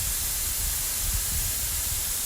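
Steady hissing spray of water from a pool cleaning spray blown back by wind, a continuous broadband rush with a low rumble underneath, no talking.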